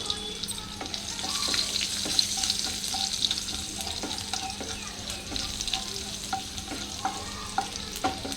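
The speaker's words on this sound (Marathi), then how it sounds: "ती लसूण मी परतून घेणार आहे।" Finely chopped garlic frying in hot oil with cumin and asafoetida after mustard seeds have popped, a steady close crackling sizzle with scattered sharp pops and occasional stirring.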